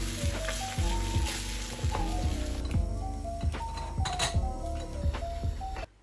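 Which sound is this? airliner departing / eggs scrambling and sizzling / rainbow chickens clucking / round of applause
eggs scrambling and sizzling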